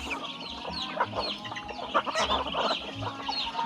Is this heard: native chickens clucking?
yes